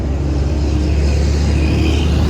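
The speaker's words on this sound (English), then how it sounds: "So loud over there next to all the cars." Loud, steady roar of nearby road traffic, cars rumbling and passing close by without a break, with no talking over it.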